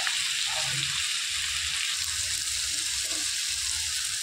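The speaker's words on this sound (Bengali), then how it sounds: "সমস্ত মশলাগুলো ভালো করে কষিয়ে নিয়েছি" Spices being sautéed in hot oil for a mrigal fish curry, giving a loud, steady sizzle that runs unbroken through the whole stretch with no talking.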